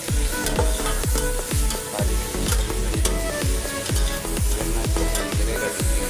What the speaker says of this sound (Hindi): इसके अंदर हम डालते हैं प्याज टमाटर और डाल दिया, इसको अच्छी तरह फ्राई करेंगे